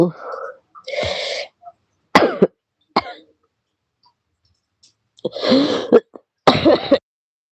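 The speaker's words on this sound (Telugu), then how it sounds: "కాఫ్ మాత్రం చాలా ఉంది" Repeated bursts of coughing and throat clearing from a person with a bad cough, close and loud, with short silent gaps between the fits.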